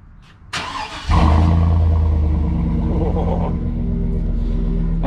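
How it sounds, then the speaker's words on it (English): A Chevrolet Tahoe engine starts in a driveway and settles into a loud, steady rumbling idle with a slight rise in revs, close to the microphone. "I'm gonna turn the Tahoe on, turn it around in a driveway"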